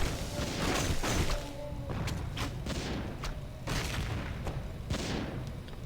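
Barrage of rocks striking in a strategy video game championship match, a dense run of repeated booming impacts and crashes over several seconds, loud and continuous with overlapping hits.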